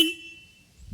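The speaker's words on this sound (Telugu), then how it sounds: "సింగిల్ హార్న్ అయినా సరే సౌండ్ మాత్రం వినడానికి లౌడ్గా ఉంది" The single horn of a TVS Ronin 225 Agonda Edition motorcycle gives one brief bright beep that cuts off abruptly, followed by near silence and faint rustling.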